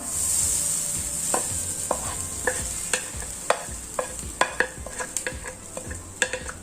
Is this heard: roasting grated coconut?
yes